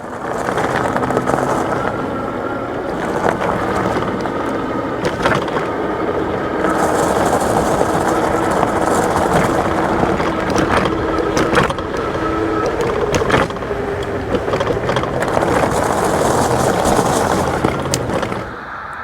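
Puckipuppy Boxer electric bike riding on gravel: steady crunching, rumbling tyre noise over loose stones with wind, continuous and close throughout, with occasional bumps and rattles.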